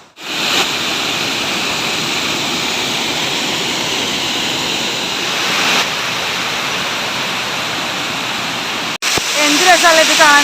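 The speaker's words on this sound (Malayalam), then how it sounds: "ഈ ഒരു സമയത്തും ഇവിടെ ഇത്രയും വലിയൊരു വാട്ടർഫാൾ" A large waterfall roars as a dense, continuous rush of falling water, loud and close, with a brief sharp knock near the end and some faint higher sounds at the tail.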